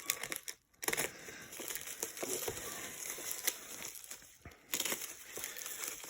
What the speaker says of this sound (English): Let's get a knife in there, we'll cut this open carefully.